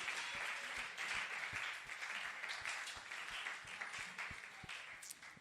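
A church congregation at a preaching seminar on the cross breaks into dense, sustained applause, a steady wash of many hands clapping close by throughout, with no voices over it.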